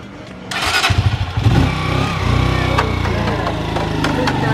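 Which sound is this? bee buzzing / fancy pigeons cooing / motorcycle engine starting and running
motorcycle engine starting and running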